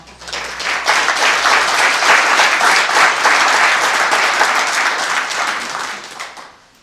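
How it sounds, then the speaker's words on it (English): An audience at a Shelton Chamber active shooter luncheon gives a full, sustained round of applause for a police chief and an officer, dense clapping that swells and holds for several seconds before trailing off. "Big round of applause for Chief Moody and Officer."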